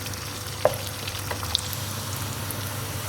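Onions fry in a pan toward a light golden colour, giving a constant close sizzle under a low hum, broken by a couple of faint clicks from utensils, with no speech.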